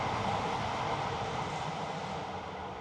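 A train passes near a city dene in Newcastle, a steady loud broadband rumble that holds for the whole stretch and fades only slightly at the end.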